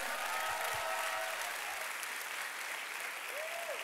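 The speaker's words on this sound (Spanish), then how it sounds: "Alguien déle un aplauso fuerte a los que están listos ya" A church congregation clapping steadily and loudly during a sermon, sustained applause filling the space from start to finish.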